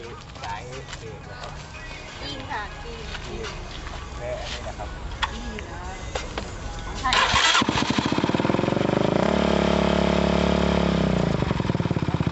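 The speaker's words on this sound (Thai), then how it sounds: "เรามาฟังเสียงท่อกันดีกว่าครับ" A Honda CBR150R motorcycle engine, first generation, stock factory exhaust, idles at first, then at about seven seconds it fires up from cold and settles into a loud, steady exhaust burble with light revving.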